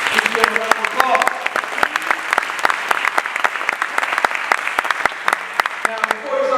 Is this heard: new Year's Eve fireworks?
no